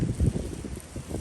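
Strong wind gusts through a snowy yard during a snowstorm, a steady close roar and buffeting against the microphone with no talking.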